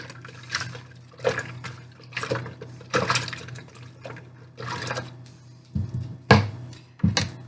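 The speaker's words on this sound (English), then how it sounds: "I'm going to take my spoon and stir it up." A spoon stirs fizzy fruit punch of juice and soda, making repeated sloshing, swishing liquid strokes in a steady rhythm with light clinks.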